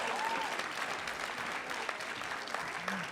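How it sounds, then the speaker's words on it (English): Applause from an audience at a city awards ceremony, heard as a short, moderately faint burst of steady clapping. "Another round of applause."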